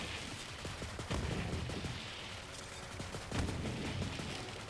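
Tediore guns firing rapidly in Borderlands 3, a steady, dense stream of fast shots and explosive bursts forming a continuous, moderately loud barrage with no speech.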